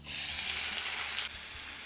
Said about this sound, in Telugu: ఆయిల్ వేడెక్కిన తర్వాత ఇప్పుడు ఇందులో కట్ చేసుకున్న పన్నీర్ పీసెస్ని వేసేద్దాం.